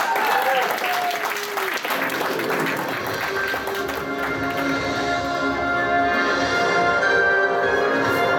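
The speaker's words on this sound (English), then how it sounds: "Give a round of applause, guys" A convention audience applauding game show contestants at a fan-convention quiz event, steady clapping that carries on throughout as a voice talks and low music plays underneath.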